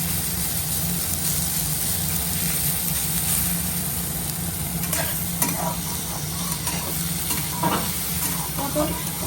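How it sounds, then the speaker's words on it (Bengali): Sliced pointed gourd fries in a pan while being stirred, a steady close sizzle under a low hum, with scraping and clinking from the stirring utensil in the second half. "আর একটু নাড়াচাড়া করে নেব, পটলের রসটা যাতে মরে যায়।"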